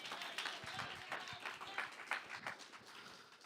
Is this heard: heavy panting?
no